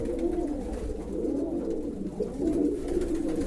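Viennese pigeons in a loft give low, rolling coos that swell and fade steadily, with a continuous murmur from several birds close by.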